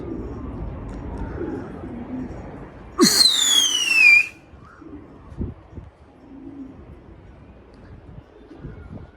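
Pigeons in a coop, a breed of show pigeons, with soft low cooing and rustling throughout, a sharp burst of wing flapping and a descending whistle-like call near the middle, then quieter shuffling.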